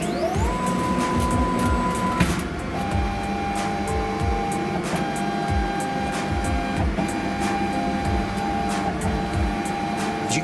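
Motorized Z-axis bed on a Cloudray laser engraver lowering during autofocus, a steady mechanical whir with stepping tones and repeated clicking, continuous and fairly close.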